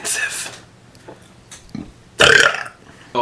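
Loud, close human burps, a short one at the start and a longer, rougher one later, with quieter mouth sounds in between and no talk.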